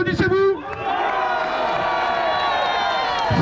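A street protest crowd in Paris, rallying against the COVID health pass, cheers and shouts loudly with scattered clapping, a sustained roar of many voices close by.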